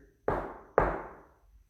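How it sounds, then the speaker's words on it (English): Two sharp knocks on a wall, about half a second apart, loud and close, each with a booming ring that fades slowly, in a quiet room with no talking. "Can you knock on the wall?"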